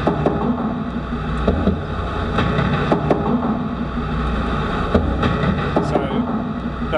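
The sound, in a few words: car thumping over expansion joints on the Story Bridge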